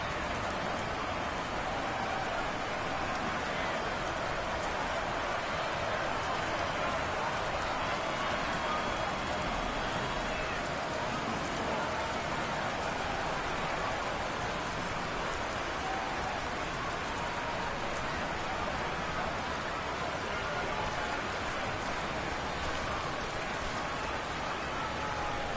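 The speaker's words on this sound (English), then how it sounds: "The rain set to continue as we are underway in the second half." Steady rain falling during a nighttime-style football game between the Bengals and Patriots, a dense continuous hiss of drops on surfaces, even and unbroken throughout with no clear talk.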